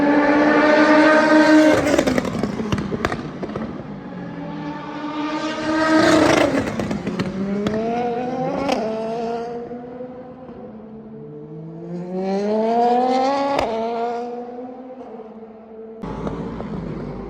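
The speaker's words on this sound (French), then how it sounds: "J'adore le bruit de la Westgate, de la Ferrari." A Ferrari race car engine at Spa-Francorchamps during a test day, loud and close, revving in rising sweeps and climbing through gears several times with sharp shifts, swelling and fading as it passes.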